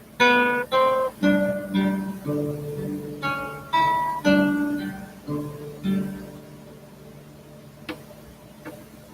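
Plucked acoustic guitar notes picking out the slow hymn melody of The Old Rugged Cross, single notes and small chords ringing in turn, close and clear.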